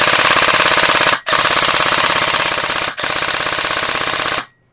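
Cyma AK74 airsoft rifle firing on full auto, a loud rapid mechanical rattle in three sustained bursts separated by brief pauses, close to the microphone with no talking.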